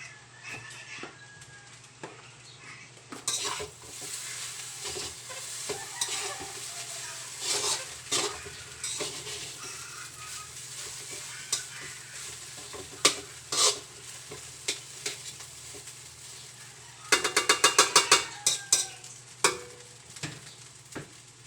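Garlic fried rice (sinangag) sizzles softly in a pan while a spatula stirs it with irregular scraping strokes and clinks, followed by a brief burst of rapid scraping near the end.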